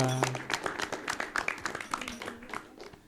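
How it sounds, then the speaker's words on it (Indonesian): Audience applause for the guest speakers at a Ngaji Budaya cultural religious gathering, a short burst of many hands clapping close by, fairly loud and steady, fading toward the end, with a voice briefly over the start. "Tepuk tangan untuk narasumber kita."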